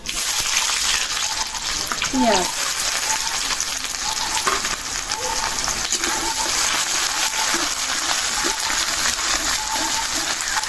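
Garlic goes into hot oil already crackling with bay leaf, dried red chillies and nigella seeds, producing a loud continuous frying hiss with splattery crackle throughout and a brief scrape early on.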